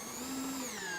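Cordless drill with the clutch set around 11 drives 1 1/4 inch coarse Kreg screws into wood for a Kreg K5 mount, a steady close whine throughout.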